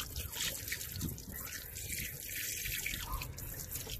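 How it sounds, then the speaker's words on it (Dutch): Tap water runs steadily over a whole sea bass being rinsed in a sink before it goes into a tagine, a continuous splashing and trickling close by, with no talking. "En nu gaan we even goed mooi afspoelen."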